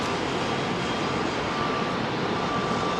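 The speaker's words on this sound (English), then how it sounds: "That was a Dreamliner." A Boeing 787-9 Dreamliner departing London Heathrow runway 27R gives a brief, loud, unbroken jet engine roar, dense and steady, close by with no voices.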